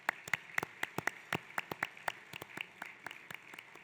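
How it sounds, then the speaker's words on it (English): Scattered applause from a small audience at a senior awards event in a resort casino, individual sharp claps spaced irregularly, faint and sparse rather than a full ovation. "I think they deserve a round of applause"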